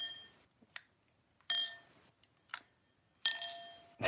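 An electric bell wired up through a removed wire nut rings loudly in two sustained bursts, each about a second or more, with short clicks and taps between them and no talk.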